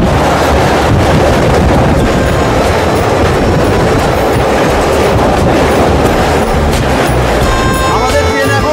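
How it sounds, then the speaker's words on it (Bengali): A local train from Howrah to Digha crosses the Haldi river bridge, loud and close, with a dense rumbling roar, rhythmic wheel clatter and some wind buffeting the microphone. "আমাদের ট্রেন এখন হলদি ব্রিজ ক্রস করছে, নিচ দিয়ে বয়ে চলেছে হলদি নদী।"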